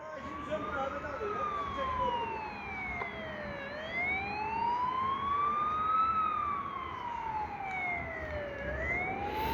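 Fire engine sirens wail, rising and falling in long sweeps, several overlapping, over a steady rumble of road traffic at a fire in Ataköy.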